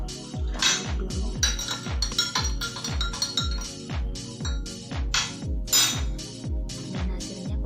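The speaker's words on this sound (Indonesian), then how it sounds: "Kita aduk dulu." Glass stirring rod clinking repeatedly against a laboratory beaker while a liquid solution is mixed up to 250 ml with water, a steady rhythm of close, bright taps and rings with no talking.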